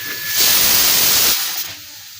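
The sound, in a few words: pressure cooker whistle releasing steam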